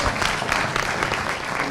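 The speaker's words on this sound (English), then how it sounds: "So a round of applause for my panelists right here." An audience claps steadily for the panelists at the close of a panel discussion at a hub launch event, a dense, continuous wash of applause filling the room with no pauses.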